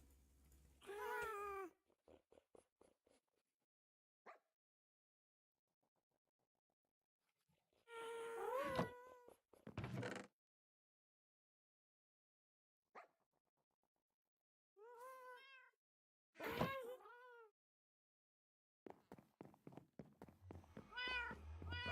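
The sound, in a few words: cats meowing in the video game Minecraft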